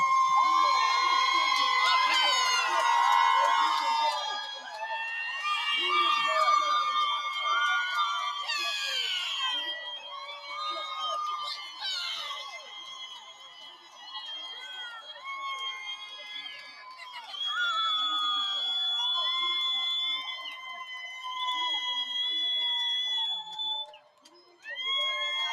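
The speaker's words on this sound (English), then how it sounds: "A wild and loud crowd." Loud crowd at the Utah Pride Center Pride Parade in Salt Lake City, cheering and screaming continuously with shrill whistles and high cries over a festive street din.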